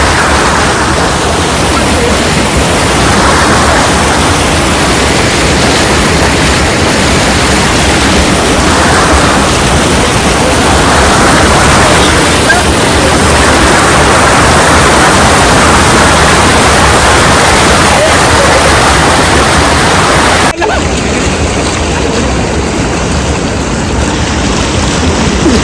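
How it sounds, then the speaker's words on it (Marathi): Water surges at full force in a steady, loud, unbroken roar of broadband rushing that shifts abruptly in tone just before the end. "मस्त आता पाणी लोटते बघा"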